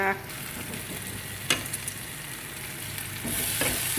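Masala sizzling in a pan with potatoes and chicken while being stirred, a soft continuous fry broken by scraping stir strokes, close up and alone.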